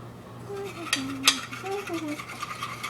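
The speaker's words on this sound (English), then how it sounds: "now we're going to mix it together" Cookie dough being mixed by hand in a bowl, with quick scraping and stirring strokes, a couple of sharp utensil clicks against the bowl, and a low steady hum in the background.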